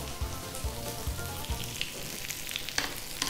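Seekh kebab fries steadily in a pan, a soft continuous sizzle with low rhythmic bubbling pops early on and a few brighter crackles later.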